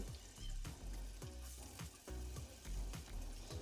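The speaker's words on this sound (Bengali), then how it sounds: "এখানে দিয়ে দিব আমি কেটে রাখা আলুর কুচিগুলো।" Chopped potatoes fry in hot oil with cumin seeds and two bay leaves, giving a close, loud sizzle broken by regular stirring scrapes roughly every half second.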